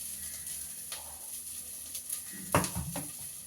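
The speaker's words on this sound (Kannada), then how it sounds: "ಇವಾಗ ಚೆನ್ನಾಗಿ ಫ್ರೈ ಮಾಡ್ತೀನಿ." Food fries in a pan with a soft, steady sizzle, broken by a few louder scraping stirs toward the end.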